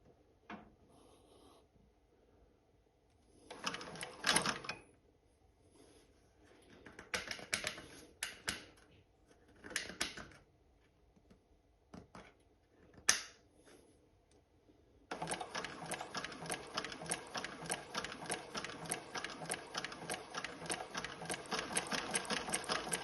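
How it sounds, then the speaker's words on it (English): A Prosew PS-1342D compound feed industrial sewing machine stitches leather, first in short irregular bursts of clatter, then settling into a fast, steady, loud mechanical rattle of needle strokes for the final several seconds. "Now I'm going to hold those and we'll sew a line and just watch the action of the compound feed."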